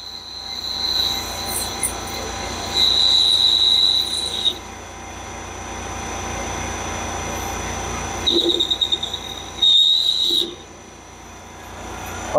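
A bench lathe parts off metal with a parting tool, giving high, piercing squeals in several bursts, some long and steady, some stuttering, over a continuous machine hum, with no talking.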